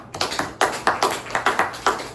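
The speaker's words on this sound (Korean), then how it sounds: "한번 박수 칩시다" A church congregation clapping at a Sunday worship service, a steady rhythmic beat of about eight or nine even claps, moderately loud and without talk.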